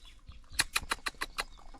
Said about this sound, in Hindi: अपनी मुर्गियाँ छोड़ दिया बाहर